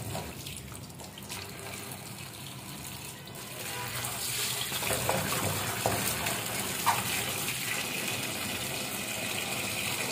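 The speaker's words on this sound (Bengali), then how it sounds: "লাউটা ধুয়ে নেব।" Tap water runs steadily while a bottle gourd is washed by hand in a kitchen, a continuous close gush that swells slightly halfway through, with small knocks and no talking.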